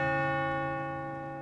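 The Sacred Heart Bell, largest of four church bells on Grand Rapids' west side, rings out with a single rich, sustained tone that fades slowly, heard clearly with no voices.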